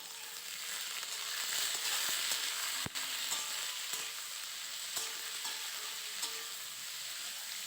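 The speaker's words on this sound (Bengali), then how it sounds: "টমেটো দিয়ে নেওয়ার পর 2 থেকে 3 মিনিট একটু নেড়েচেড়ে নিতে হবে।" Cut green tomatoes stir-fry in a pan with a steady, fairly soft sizzle, with occasional scrapes and taps of a spatula against the pan; no talking.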